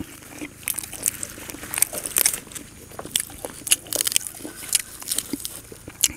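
Crunchy, chewy bites of beef being eaten, with repeated crisp crackling bursts scattered irregularly over quiet background, close to the mic and without talk.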